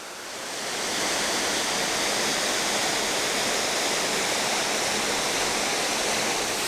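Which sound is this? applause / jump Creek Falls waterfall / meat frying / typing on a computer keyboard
jump Creek Falls waterfall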